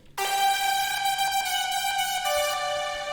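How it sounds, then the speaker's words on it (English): An 8-voice sawtooth synth layer with slight detune, built in FL Studio for a hardstyle lead, plays as a bright, buzzy sustained chord that starts abruptly, changes pitch a few times and holds steady alone. "And this is a 8-voice sawtooth with a little bit of detune."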